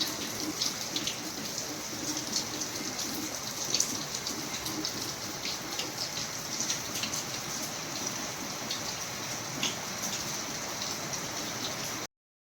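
Continuous heavy rain pours down, a dense, even hiss with scattered sharper drops and splashes, steady throughout without any talking.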